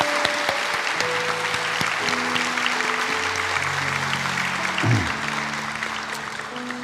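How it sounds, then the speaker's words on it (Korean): A church congregation at a special dawn revival service applauds in a steady, continuous wash of clapping, with sustained tones from music playing underneath. "우리 다시 한번 감사 박수 드리겠습니다"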